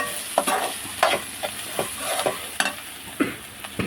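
Fish-fry masala with turmeric is stirred and fried in a pan, with a soft steady sizzle under intermittent scraping strokes of the spoon, close and fairly quiet, no talk.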